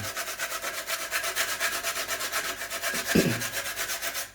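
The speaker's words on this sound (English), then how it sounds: "Get my nutmeg. Real Jamaican grater the same one." Half a nutmeg rubbed against a metal Jamaican grater in a kitchen, a steady close rasping scrape repeated in even quick strokes, with a single small knock partway through.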